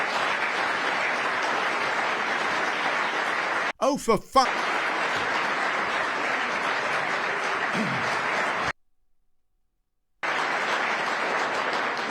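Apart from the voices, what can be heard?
audience applause at political party conference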